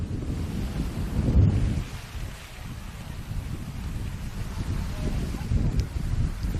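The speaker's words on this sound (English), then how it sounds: "As the rain pours down again" Heavy rain pours down on a football pitch during a men's reserves State Cup final, Perth Glory against Armadale, making a steady rushing roar with gusty low rumbles that swell and fade.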